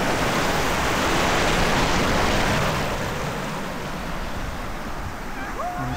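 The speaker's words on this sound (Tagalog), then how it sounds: "Taas ang alon." High ocean waves crash and surge in a dense, loud roar close by on a New Zealand shore, the wash easing slightly toward the end.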